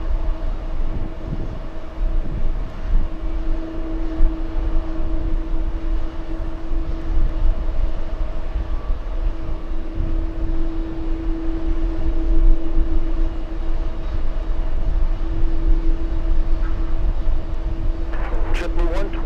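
A Boeing 787 airliner approaching near the TWA Hotel gives a steady, continuous engine drone with a constant hum, while people talk over it throughout.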